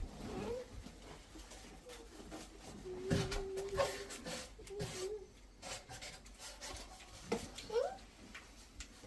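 A pen or pencil scratches and rubs across paper as a name is written, in scattered uneven strokes amid a busy room with voices murmuring in the background.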